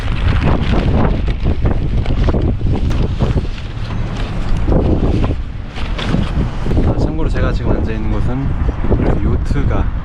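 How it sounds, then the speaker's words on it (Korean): Strong wind blasts across an open grassy field in San Francisco, roaring and buffeting the microphone in continuous gusts, loud and close, with no voices. "바람이 좀 많이 부는 거 빼고는"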